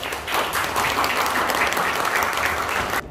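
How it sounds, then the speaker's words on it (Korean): Wedding guests applaud warmly before a musical congratulatory song, a dense, steady burst of clapping that stops abruptly after about three seconds. "여러분 큰 박수 부탁드리겠습니다."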